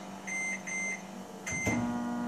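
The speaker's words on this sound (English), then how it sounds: "so let's just put it in the microwave" A microwave oven beeps in short electronic bursts, then a door clunks and the oven hums steadily as it starts running.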